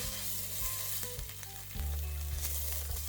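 Garlic sizzling and frying in a pan on the stove, a steady, loud crackle running throughout with occasional clinks of stirring.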